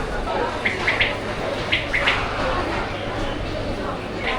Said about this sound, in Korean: 아 어디서 새소리가 난다 했더니 여기 새들이 있구나.